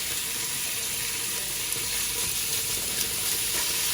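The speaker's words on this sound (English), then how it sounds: "while the bacon's sizzling" Steady, bright sizzling of bacon frying in a hot saute pan, a continuous crackly hiss with small pops, no voices.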